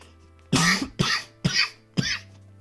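Four separate coughs, close and fairly loud, spaced roughly half a second apart with a low steady hum underneath and no speech.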